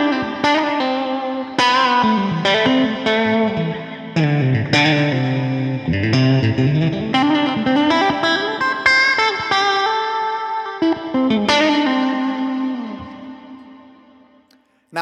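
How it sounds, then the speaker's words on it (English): Electric guitar played through a Line 6 HX One pulsating reverb with light Blues Driver overdrive: sustained, chiming chords and single notes with shimmering, echoing tails, loud and continuous, fading out at the end. "It's had a little bit of overdrive in from the blues driver."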